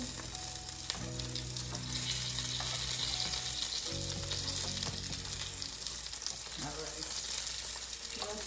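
Rice paper rolls sizzle and crackle steadily in a frying pan, a dense continuous fry with occasional spatters and faint stirring noises, heard close with no talking.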